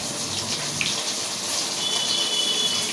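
Water pours in a steady, close, full rush into a pot of cooking food during preparation of a breakfast of shapla and fried hilsa fish, continuous without a break and no voices.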